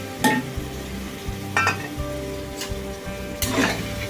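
Soaked soya chunks and field beans (avarekalu) stirred and frying in a pan for palak pulao, a steady sizzle broken by three sharp scraping bursts of a spatula against the pan, close and fairly quiet.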